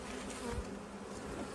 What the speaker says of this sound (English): I'm looking at more bees on frames.